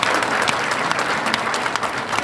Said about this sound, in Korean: 이때 박수 한번 쳐야 됩니다.